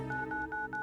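Telephone keypad dialing: four short, evenly spaced tone beeps ring out clearly over a steady background hum, with no talking.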